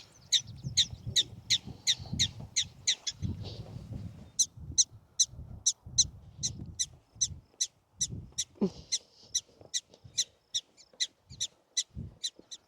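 Prairie dogs in a prairie dog town at Theodore Roosevelt National Park in the North Dakota badlands give sharp, high, repeated chirping barks in quick regular series, fairly close, over low rustling and footstep-like thumps.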